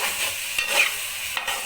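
Mash dal fries in a pan with red chillies while a spoon scrapes and stirs it, two distinct scraping strokes over a soft continuous sizzle, close and unaccompanied by voices.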